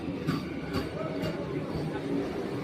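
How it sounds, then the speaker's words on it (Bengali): An air-conditioned local train pulls into a station on the Krishnanagar line, a heavy rolling rumble with faint rail clatter, while a voice talks over it nearby. "ওই যে ট্রেন ঢুকছে, এসি ট্রেন"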